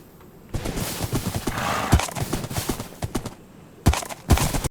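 A horse gallops in a Minecraft modpack game, giving quick, close hoofbeat clatters in an uneven rhythm that pause briefly, then resume with a couple of sharper thuds.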